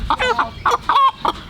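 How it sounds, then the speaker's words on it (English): A rooster squawks in agitated bursts just before butchering, with about five loud, close, harsh calls in quick succession. "We've got a rooster over there who's very upset"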